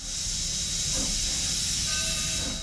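Granite Rock No. 10 steam locomotive on the Sacramento Southern Railroad: a steady, loud hiss of escaping steam fills the whole stretch, with a low rumbling undertone and faint metallic tones, no voices.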